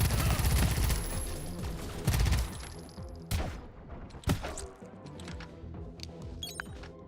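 Sniper gunfire in the video game Pax Autocratica: several sharp, loud shots ring out at irregular intervals over a busy battle din, some ending in thuds and breaking noises.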